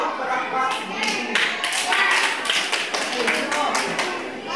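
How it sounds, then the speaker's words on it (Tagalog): A class of grade 3 children clapping together in a classroom, with a rapid run of overlapping claps, loud and close, mixed with chatter from the group. "bigyan ng dalawang palakpak"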